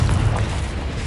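Confringo fire spell blast in Hogwarts Legacy, a loud low boom filling the whole short moment with a dense rumbling body and no clear decay.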